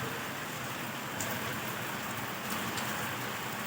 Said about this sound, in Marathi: का जोरात पाऊस पडतोय ना